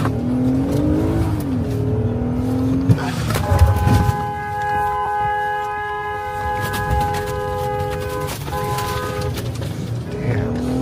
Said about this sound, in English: Damn, could have got stuck in the snow there. Look at the truck.